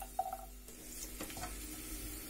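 A faint sizzle of coarsely chopped garlic frying in oil with a light stir and a brief clink, quiet and close with no talking.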